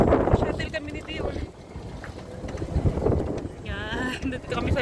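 Wind buffets steadily over an open shuttle boat crossing water in Abu Dhabi, a constant loud rush with the hum of the boat beneath and people talking throughout.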